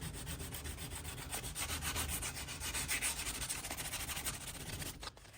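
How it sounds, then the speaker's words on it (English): Hand sanding with 120-grit sandpaper scrubs over painted wood on an antique two-door display cabinet, a steady close rhythmic rasping of back-and-forth strokes that runs without a break before stopping abruptly near the end. "I got a 120 grade sandpaper just to get the excess"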